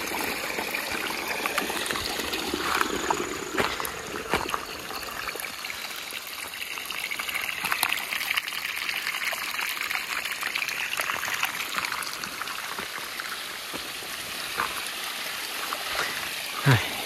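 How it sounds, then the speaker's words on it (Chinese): After a day and night of heavy rain in a village, runoff streams down from the hillside above a lake, a loud, steady rushing and trickling close by that continues throughout. "听到水流的声音还是蛮大的。"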